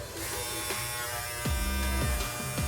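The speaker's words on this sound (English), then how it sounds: "For this purpose of this tutorial, I'm just going to trim them." A small electric trimmer trims eyebrow hairs, giving a steady close buzz whose pitch drops in short dips each time the blade meets the hair.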